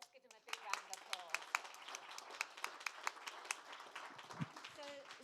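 Audience applause at a conference awards presentation, a scattered, medium-sized crowd clapping with distinct individual claps standing out, steady for several seconds after a brief quiet start.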